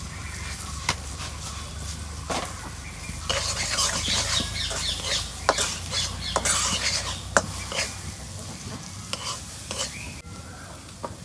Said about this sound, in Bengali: এখন আমার মশলা কষে নিলাম